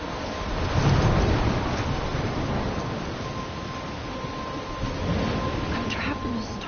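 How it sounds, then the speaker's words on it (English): Stormy weather in Life is Strange, a steady wash of rain and wind with low rolling rumbles of thunder swelling and fading, fairly loud and continuous, with speech over it at times. "I'm trapped in a storm?"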